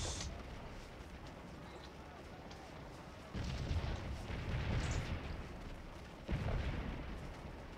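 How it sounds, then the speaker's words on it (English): Cannon artillery fire in the Scourge of War battle game rumbles in broad, muffled booms, with two heavier blasts arriving a few seconds apart over a constant low battlefield roar. "as you can hear, the cannon are going off very regularly."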